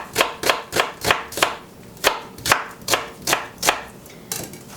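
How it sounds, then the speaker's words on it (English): A knife slices onions into thin half-moon strips on a cutting board, about a dozen crisp, evenly spaced chops close up with a steady rhythm and no one speaking. "to cut the onions, I'm cutting it into what I call silver moon shapes or moon strips"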